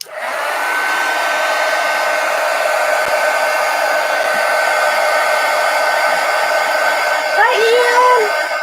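A hair dryer blows steadily and loudly on a napkin journal page inside a traveler's notebook, a constant whooshing whine that runs alone the whole time and wavers slightly in pitch near the end.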